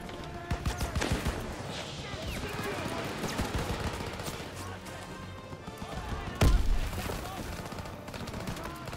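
Battle gunfire in Call of Duty: WWII, rapid bursts of rifle and machine-gun shots crackling close and far, with a heavy blast near the end and voices shouting amid the din.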